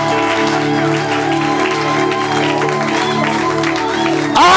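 Church congregation applauding as an offering of acclamation, a loud sustained wash of clapping from many hands with a low musical hum beneath and cheering voices mixed in.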